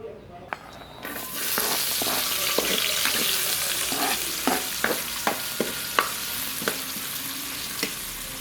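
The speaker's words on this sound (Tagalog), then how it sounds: "Yung bawang, aantayin lang natin mag kulay brown." Garlic sizzles steadily in hot oil in a pan for a Filipino ginisang sayote, a dense broadband frying hiss with repeated soft scrapes and taps of a spatula stirring, close and continuous after a quiet start.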